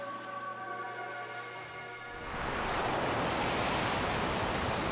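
Magic water in Okami HD swells from a quiet musical tone into a loud, broad rushing flow, like surging surf, holding steady and close for several seconds.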